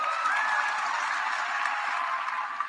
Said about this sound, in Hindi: हो जाए ताली आज